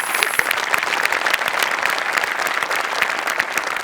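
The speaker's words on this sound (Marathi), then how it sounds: "टाळ्या वाजवू." A theatre audience at a Marathi comedy stage show applauds loudly and evenly, with dense, sustained clapping from start to finish.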